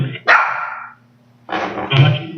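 A dog at home barks loudly twice, the first bark sharp and fading, the second a longer, rougher outburst, with no other voices.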